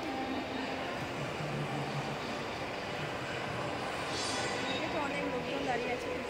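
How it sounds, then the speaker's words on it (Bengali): A metro train pulls into a busy station platform, its steady low rumble and rolling hum carrying on throughout amid crowd murmur and people talking nearby. "তো ট্রেন স্টেশনে ঢুকছে আর আমরা অপেক্ষা করছি দরজা খুলবে"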